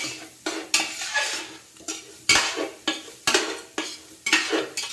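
Rice being stir-fried with pepper powder for chicken fried rice, a spatula scraping and clanking against the pan in a regular rhythm of sharp strokes over a soft sizzle, close up and without speech.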